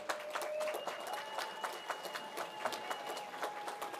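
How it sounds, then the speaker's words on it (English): Audience applause at a Kootéeyaa Deiyí ceremony: a dense, steady patter of many hands clapping for about four seconds, with a faint tonal hum running underneath. "we get a round of applause for them"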